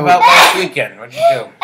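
A single sharp sneeze bursts out near the start during a live talk show, followed right away by people talking conversationally.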